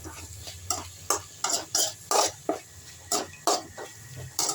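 Guava chutney ingredients being sautéed in a pan: a steady stream of short, scraping stirs at an uneven pace over a low background sizzle, close up, with no voices.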